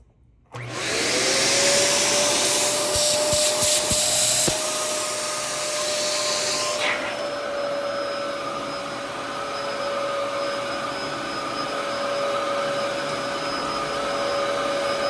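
A vacuum cleaner with no attachments starts up and runs steadily with its brush roll spinning, a loud broadband whine with a sustained tone that shifts pitch partway through and then settles into a constant drone.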